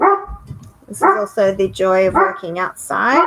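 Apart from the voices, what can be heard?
neighbours' dogs barking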